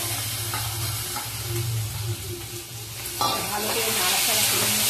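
Boiled kochur loti (taro stolons) with five-spice seasoning and dried and fresh green chillies frying in a pan, a continuous loud sizzle with scraping stirring strokes and a hum beneath, the frying swelling louder partway through.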